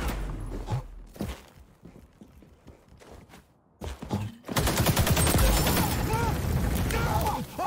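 Rapid bursts of AK rifle fire in a video game shooter crackle loudly and continuously for the last few seconds, following quieter footsteps and shuffling movement.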